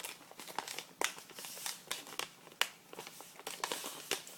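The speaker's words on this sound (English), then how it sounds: "I'm going to crease the edge, fold it back down, and I'm going to fold down the top bit" Paper is creased and folded by hand for a craft project, crisp crinkling and rustling in short irregular bursts with sharp snaps, close and fairly quiet, with no talking.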